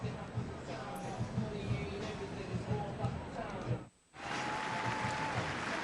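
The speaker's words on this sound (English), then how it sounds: "you can hear the applause here at Kid Brewer Stadium" Crowd applause in Kidd Brewer Stadium at an Appalachian State college football game, a broad distant wash under a commentator's voice, briefly dropping out before resuming.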